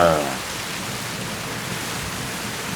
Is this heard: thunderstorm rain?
yes